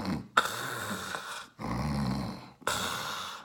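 A person imitates snoring with three long, rough, throaty breaths separated by short pauses, close and fairly loud.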